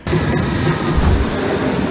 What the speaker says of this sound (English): here comes our train now